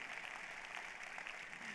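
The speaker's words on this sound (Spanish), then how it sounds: "dale un fuerte aplauso al Señor ahí por la palabra de Dios" Congregation applauding at a church teaching service, a steady, dense wash of clapping from a crowd that fills the whole moment without pause.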